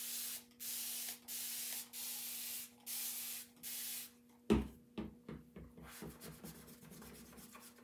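A spray bottle mists a chalk stencil in six evenly spaced, close hissing squirts, followed by softer scraping and rubbing sounds.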